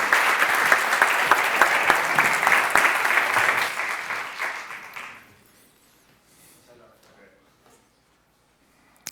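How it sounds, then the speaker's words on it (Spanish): An audience at a tech talk on bitcoin claps loudly for about five seconds to welcome a speaker, the applause fading out into near quiet with faint room sounds. "Damos paso a José Antonio con un aplauso"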